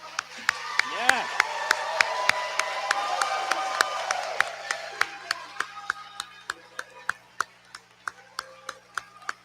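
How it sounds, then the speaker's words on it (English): Audience at a school graduation ceremony applauding, dense clapping that swells early and then thins into scattered individual claps, with a brief voice and cheer near the start. "There'll be plenty of time for more clapping."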